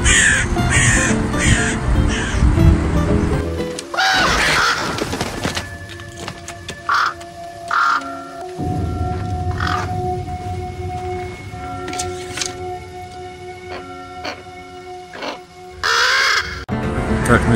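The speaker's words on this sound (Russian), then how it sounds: "Что-то с этими воронами." Crows cawing outdoors in Ust-Kamenogorsk, a series of loud, harsh repeated caws in bursts, some close and some farther off, with quieter background noise and rustling between calls.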